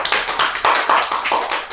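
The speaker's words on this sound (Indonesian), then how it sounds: "Tepuk tangan dulu buat kita semua." A small group claps hands close by in short, uneven bursts during a casual talk show, a few distinct loud smacks rising and falling over under two seconds.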